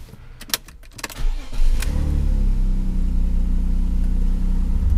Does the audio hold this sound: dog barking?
no